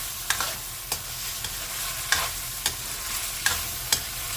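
Tomato sautéing in a pan for Filipino beef menudo gives a soft steady sizzle, with a spatula scraping and clicking against the pan every half second or so.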